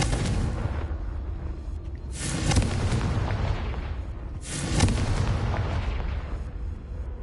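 Two heavy magical blasts of the Confringo fire spell in Hogwarts Legacy, each a loud broadband boom with a long rumbling tail, spaced a couple of seconds apart over a continuous low game ambience.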